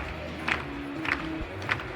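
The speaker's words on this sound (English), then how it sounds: "Crowd getting in to support her as well." Crowd at a pole vault competition cheering and calling out in support of a vaulter, a steady low murmur with three brief, louder bursts of shouts spaced through the stretch.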